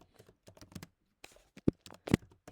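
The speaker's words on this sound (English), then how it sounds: "oh my gosh, my typing." Irregular clicking of computer keys being typed, quick taps in bursts with a short pause, a couple of louder thumping strokes near the end.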